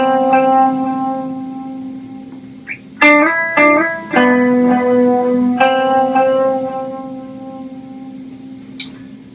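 An electric guitar with the tone rolled off plays the intro of the worship song Forever Reign, slow sliding melodic notes ringing out with reverb and sustain, a few sharp attacks and pauses between phrases.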